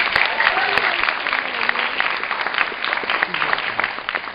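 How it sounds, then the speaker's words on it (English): Comedy show audience in Manchester breaking into loud, sustained applause with scattered cheers, a dense clapping crowd filling the room throughout. "Please give a huge round of applause to Muslim Mate for making tonight happen"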